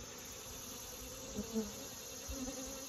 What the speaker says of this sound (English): As you can see by the entrance, there's quite a few bees.